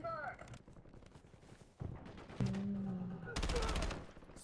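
Video game gunfire in bursts, sharp rapid shots and loud bangs separated by quieter gaps, with speech in between.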